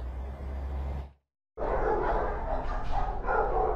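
Many dogs bark and yip loudly at an animal shelter in DeKalb County, the overlapping chorus broken by a short silent cut before resuming densely.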